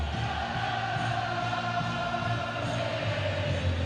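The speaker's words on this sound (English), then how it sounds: "This is the best crowd song there is." A Glamorgan cricket crowd sings together in the stands, a steady massed chant from many voices that carries evenly from start to finish with no single voice standing out.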